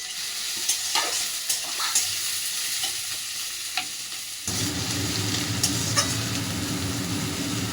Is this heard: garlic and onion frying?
yes